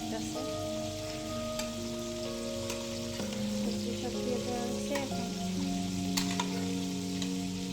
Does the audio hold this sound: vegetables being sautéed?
yes